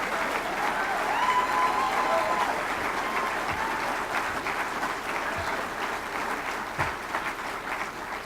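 Sustained applause from a political convention crowd, dense and steady clapping that fades slightly toward the end.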